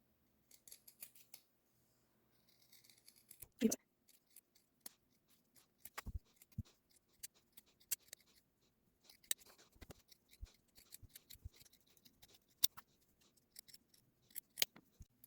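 Sewing scissors snip through thick fabric at a pajama pant seam, giving a series of sharp, close cuts with pauses between them in a quiet room.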